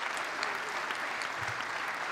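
An audience at a conference opening ceremony applauds, a dense steady patter of many hands clapping throughout, moderately loud and without a break.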